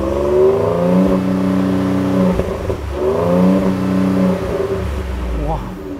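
A 2018 Ford F-150 Limited pickup with the 3.5 engine revs through its exhaust, two rising and falling sweeps in a row, loud and close, with a low rumble holding between them.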